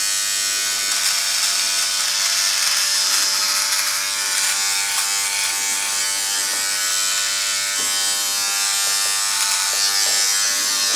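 Electric shaver or trimmer buzzing steadily and close up while trimming peach fuzz above a beard, a continuous bright hum with slight changes as it moves across the skin.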